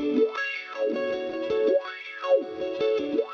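A filter effect plugin in REAPER sweeps up and down over a sustained buzzy tone, turning it into a synth-like sound with a slow, repeating wah-like rise and fall about every second and a half.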